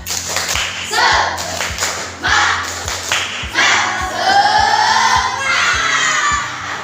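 A group claps together in a rhythmic patterned beat, sharp repeated claps with children shouting and cheering over them, loud and close.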